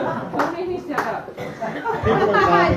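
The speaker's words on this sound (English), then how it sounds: "People are clapping" An audience claps at a Christmas comedy show in a pub on Gabriola Island, a short burst of applause mixed with someone talking over it throughout.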